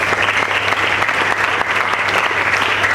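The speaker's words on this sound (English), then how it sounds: "Please clap for ExxonMobil." Audience applause at a World Malaria Day quiz competition, given for the sponsor ExxonMobil: a dense, steady wash of many hands clapping for the full stretch, loud and close, with no talk over it.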